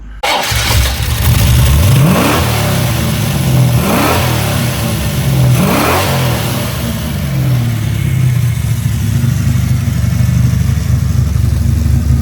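A Holden VE Commodore with a 383 stroker small-block Chevy V8 revs hard on a closed-road skid pad before a burnout, three loud rising throttle blips followed by a sustained high-revving roar close to the microphone.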